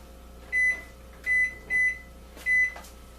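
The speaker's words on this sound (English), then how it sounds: "7 minutes, handy dandy timer." A kitchen timer set while baking a Mexican pizza sounds four short, loud electronic beeps in an uneven rhythm, with faint clatter between them.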